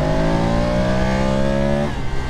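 A 2022 BMW F850GS Adventure motorcycle's engine pulling hard at full power, a loud, steady rising whine that drops sharply near the end as it shifts gear.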